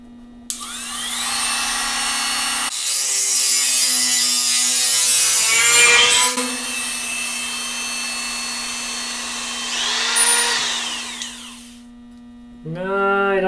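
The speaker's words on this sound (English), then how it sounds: "if I can speed up the process with the use of a Dremel" A Dremel rotary tool grinds metal on a snowmobile trailer, a steady high whine held for about ten seconds with pitch shifts as it bites, over a constant mains hum, then cutting out before briefly restarting near the end.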